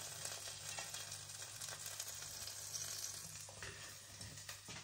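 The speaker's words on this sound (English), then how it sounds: "Sizzling away there with some bacon on." Cheesy pigs-in-blankets sausages wrapped in bacon sizzle straight out of an air fryer, giving a steady close hiss and crackle that holds for several seconds with no speech.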